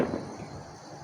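Fireworks bursting somewhere nearby, a loud crackling pop at the start that fades into a dense rumbling, crackling wash over about a second, with no voices in it.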